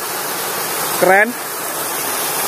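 A natural waterfall in a mossy, rocky forest spot pours with a steady, loud broadband rush throughout, briefly interrupted by a single short spoken word.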